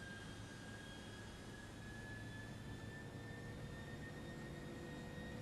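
A jet aircraft engine in the FlightGear flight simulator hums as a faint, steady, unbroken drone with a thin high whine on top and no other sounds.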